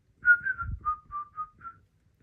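A person whistles a short run of clear notes, six or seven brief rising and falling tones close to the listener, with a little breathy noise underneath.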